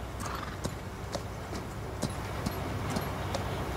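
Horse hooves clip-clop in Farming Simulator 19, a steady run of hoofbeats close up with a brief whinny, loud and continuous over a rumbling game background, no talking.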